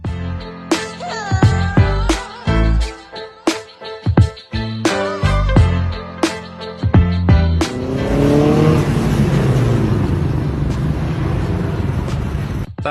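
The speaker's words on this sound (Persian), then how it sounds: "چطوری با ماشین دیفرانسیل عقبتون دریفت" A rear-wheel-drive car's engine revs in sharp bursts, then settles into a long, loud tire squeal as the car drifts, engine droning underneath.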